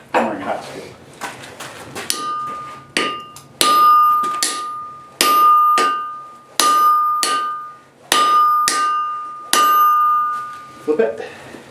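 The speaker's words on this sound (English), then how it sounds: "Use this hammer because that's like you want that hammering hot steel." A hammer pounds hot steel in steady, evenly spaced blows, each strike leaving a bright ringing tone; a few lighter taps come first and someone speaks briefly.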